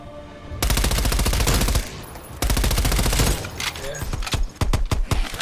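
Rapid gunfire from a pistol in Call of Duty Black Ops Cold War Zombies, loud repeated shots in bursts with game sound and a voice talking over parts.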